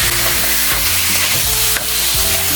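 Liempo pork adobo frying in a pan and being stirred, a loud continuous sizzle broken by regular scraping strokes of the utensil against the pan.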